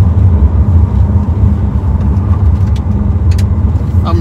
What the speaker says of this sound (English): I'm driving a 918.